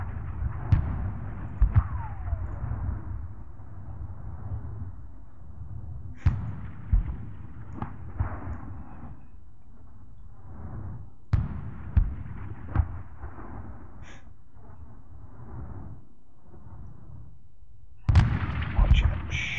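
Enemy fire in the Sealion '40 wargame crackles as irregular gunshots and booming artillery-like bangs, some in quick clusters, over a low rumbling background.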